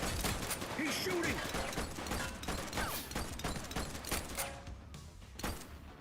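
Chaotic gunfire from a video game street crime scene, bursts of shots crackling steadily under continuous voices, with a dense, loud mix of shooting, commotion and talking throughout.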